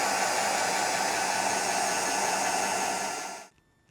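A heat gun blows hot air on engine bay sound insulation of a Porsche 356 SC. It gives a steady loud hiss that rolls off and shuts down near the end.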